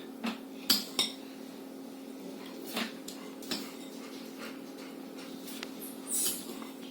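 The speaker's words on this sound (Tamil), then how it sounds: "இந்த கரண்டியால சீனி போடும்." A metal spoon clinks and taps against a bowl as sugar is added for a galette des rois, several sharp light clicks spread out over a quiet steady background hum.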